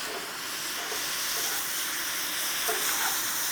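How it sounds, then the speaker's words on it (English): Water tossed onto a hot outdoor cooktop sends up a steady, loud hiss of steam and sizzle, broad and continuous throughout, heard close with no talking. "We're gonna toss some water on there."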